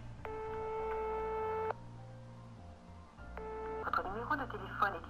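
Telephone tones heard while calling the police: two long steady ring tones with a gap between them, followed by a burst of chirping, warbling electronic line sounds.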